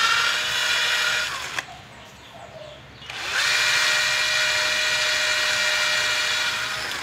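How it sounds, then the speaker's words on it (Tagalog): Steady, harsh abrasive rasping of sandpaper on a homemade dart, pausing briefly for about a second and a half, then resuming at full strength, close and loud with no talking. "kuha po tayo ng liha, lilihain na lang po natin to para yung pinakamalinis nyo"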